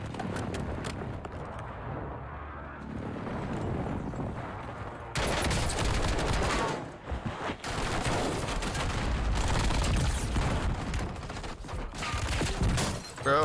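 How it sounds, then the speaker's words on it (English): Airstrike explosions and rapid gunfire from the video game Warzone on Rebirth Island, a dense, loud barrage of blasts and shots that swells sharply midway and continues heavily to the end. "They have a lot of airstrikes."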